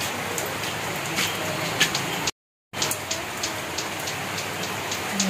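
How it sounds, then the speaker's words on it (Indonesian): Steady heavy rain hisses and patters on a surface, broad and continuous, with a brief dropout in the middle. "Udah hujan."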